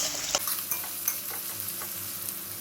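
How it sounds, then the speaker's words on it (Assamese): Onions fry in plenty of hot oil, giving a dense continuous sizzle with faint intermittent scrapes of stirring throughout. "মই এতিয়া পিঁয়াজখিনি দি দিছোঁ। এইখিনি ভালকৈ লাৰি ল'ম।"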